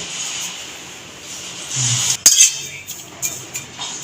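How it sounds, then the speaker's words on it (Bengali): A utensil stirring dry fenugreek leaves in an empty wok on a gas flame, with light scraping and a few sharp metallic clinks over a steady burner hiss. "মেথি পাতা খালি কড়াইতে নেড়েছে একটুখানি"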